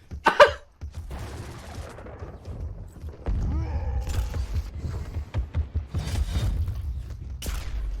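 Railgun and weapon fire from a Quake match, a burst of loud shots at the start followed by scattered gunfire and mechanical game effects through a continuous busy mix, with no speech.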